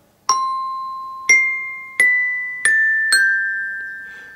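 A hand-played glockenspiel or metallophone in a school music lesson, five clear struck bell-like notes at a slow, uneven pace, each ringing on and fading, with no talking.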